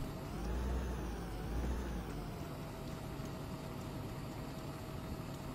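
Tractor engine in the Farming Simulator 15 video game, a steady low droning hum with a heavier rumble in the first two seconds, then an even, moderately loud engine tone with no talk.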